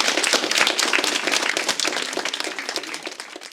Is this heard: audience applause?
yes